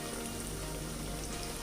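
Fish frying in oil until golden brown, a steady close hiss and crackle of bubbling oil that holds evenly throughout, with no talk over it.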